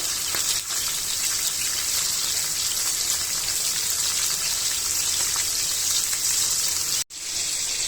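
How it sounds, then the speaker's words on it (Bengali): A constant sizzling crackle of surma fish frying in hot oil over low heat fills the clip, steady and close, broken by one brief cut near the end. "মাছটা ভাজা হচ্ছে আস্তে আস্তে, আমি অল্প আঁচে ভাজছি"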